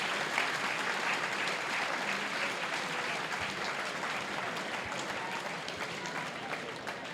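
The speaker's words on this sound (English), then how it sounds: "he's got a warm round of applause from everybody here inside the stadium as Mark Carrington comes on" A large crowd at a Wrexham versus Guiseley football match applauds warmly and steadily for a substitution, a broad wash of clapping that carries on at an even level throughout.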